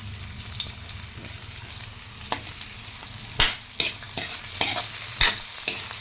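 Pork fries in a large wok while a utensil stirs it, a steady soft sizzle broken by sharp scraping and clanking strokes at irregular intervals, close and with no voices.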